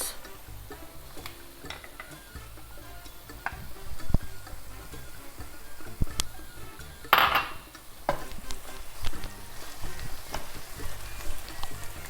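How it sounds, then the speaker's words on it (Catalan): Spinach and raisins are stirred together in a pan for Catalan-style spinach with pine nuts, a quiet run of utensil clinks and scrapes against the pan with occasional sharper knocks. "Els barregem bé, que quedi tot ben repartit."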